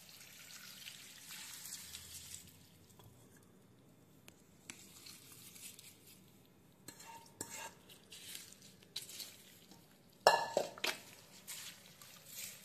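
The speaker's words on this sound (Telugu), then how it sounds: "ఇది మంచిగా ఇట్లా కలిపేసుకొని టమాటో పికిల్ అయితే రెడీ అయితే అయిపోయిందండి." A spoon stirs a tempering of spices and oil into a tangy, spicy tomato pickle. Soft, sporadic scraping and clinks sound close by, mostly quiet, with a sharper clatter near the end.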